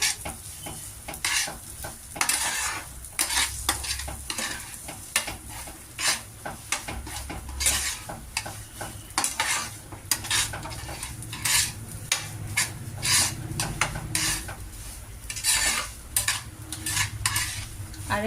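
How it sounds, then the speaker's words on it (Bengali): Semolina frying and being stirred in a pan with warming milk nearby: rapid rhythmic scraping and clinks of a spoon against metal over a constant sizzle, close and busy throughout, without speech. "দুধটা একটু গরম হলেই এটা একটু ফ্রাই করে নিই।"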